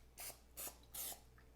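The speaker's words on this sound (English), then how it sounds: "I'm going to spray the bottom and the sides of my baking dish just a little bit" Cooking spray hisses from a can into the bottom and sides of a baking dish for turtle bars: three short, quiet bursts with brief pauses between them, heard alone.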